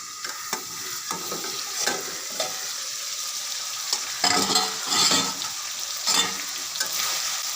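Mola fish and snake gourd curry sizzles steadily in a pot while a spoon stirs it in irregular scraping bursts, with louder strokes near the middle and end.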